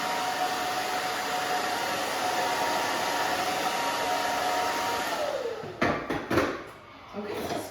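A hair dryer blows at close range as hair is dried with a round brush, a loud steady whooshing roar for about five seconds before it is switched off, followed by a few handling knocks and faint movement.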